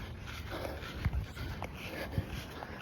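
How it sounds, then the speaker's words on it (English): A dog roams close by in a gym, making faint panting and snuffling with a couple of soft thumps of movement against a quiet room hum. "There's a dog over here. I hope he doesn't bite me."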